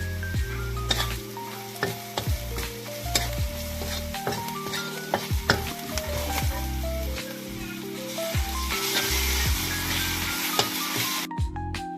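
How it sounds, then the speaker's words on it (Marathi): Goat brain being stirred through spicy masala in a pan, rendered in rustic village style: steady sizzling with repeated scraping strokes of a spoon against the pan, close and fairly loud, no talk. "आता याच्यामध्ये डायरेक्ट तो मेंदू टाकायचा आणि मेंदू हलवून घ्यायचा चांगला"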